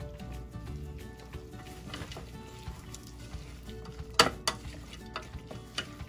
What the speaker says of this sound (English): we will just saute them for another minute to soften the celery